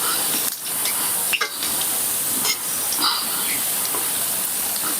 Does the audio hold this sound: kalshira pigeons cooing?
no